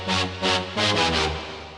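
Brassy synth horn playing a short phrase of sustained chord notes doubled an octave higher, with bright upper harmonics pulsing on each note; clear and alone, no voices.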